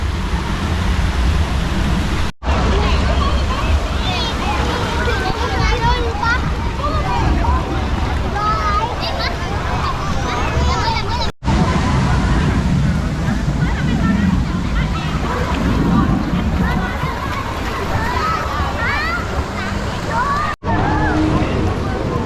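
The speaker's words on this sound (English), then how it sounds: "So here is the wave pool." Wave pool at Aquaverse waterpark in Pattaya: a broad, continuous wash of churning water and surf-like roar, loud and close, with crowd noise and voices mixed in and brief dropouts.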